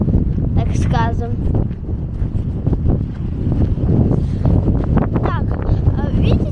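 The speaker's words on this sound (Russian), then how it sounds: "Если вам видно, то у нас ветер ветруган." Strong wind buffets the microphone outdoors at the Rock of Cashel in Ireland, a continuous loud rumbling roar with gusts throughout, while someone talks over it.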